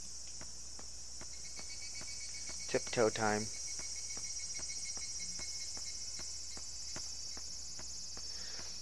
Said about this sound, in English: Yep, those are cicadas